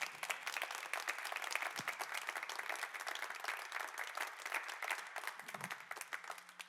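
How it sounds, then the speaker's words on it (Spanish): A church congregation applauds the Lord during a sermon, a continuous, even wash of many clapping hands heard from a distance. "Dale un aplauso al Señor."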